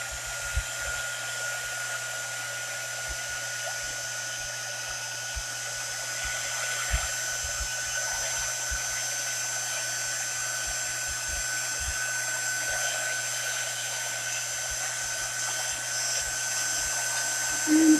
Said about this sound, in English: So let me grab my heat tool